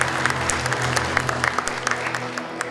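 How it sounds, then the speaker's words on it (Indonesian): An indoor audience at the Indonesia Smart Nation Award 2015 ceremony applauds the regency nominees, a dense, steady round of clapping from a sizeable crowd. "Kita beri tepuk tangan untuk nominator dari kabupaten."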